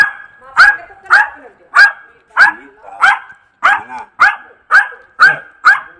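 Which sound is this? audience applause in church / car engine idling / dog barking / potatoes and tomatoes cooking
dog barking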